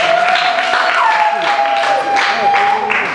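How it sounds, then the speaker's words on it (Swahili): Clapping rises from a church congregation in a continuous, lively patter, with a held keyboard-like tone underneath and voices speaking over it. "Pigia Bwana Yesu makofi."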